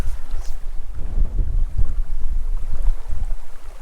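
Steady wind buffeting the microphone on open water during tenkara fly fishing, a loud, continuous low rumble with gusty swells throughout and no talking.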